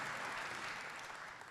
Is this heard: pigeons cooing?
no